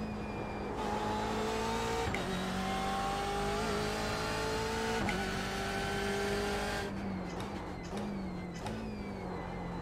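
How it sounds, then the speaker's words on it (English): The BMW M8 GTE race car in the iRacing video game holds a loud, sustained high engine whine with slight pitch swells, then a gear change near the end before it settles again. "Let's push this car to the very maximum."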